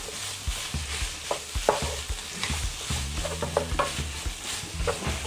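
Paprika stir-fried in a pan for Korean-style mapo tofu, a steady soft sizzle broken by frequent clinks and scrapes of a utensil stirring close by, no talk.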